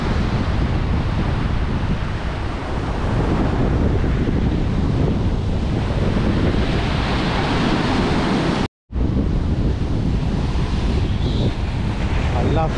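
Sea at Protaras, Cyprus, rushes loud and close in a constant roar of surf heavily buffeted by wind, with a short dropout partway through before the churning wash resumes.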